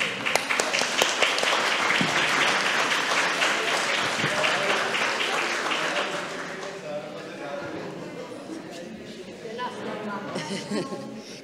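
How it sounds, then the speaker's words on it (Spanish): An audience at a legal sciences symposium applauds the actors after a demonstration. The clapping is dense and loud at first, then thins and fades to scattered claps with some murmuring. "Un aplauso para los actores."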